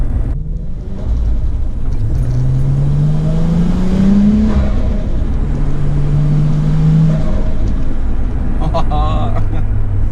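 A Nissan Skyline drift car rolls along a street in Japan, its engine a loud, close, continuous rumble that rises and falls in pitch through gear changes, with people talking inside the cabin over the drone.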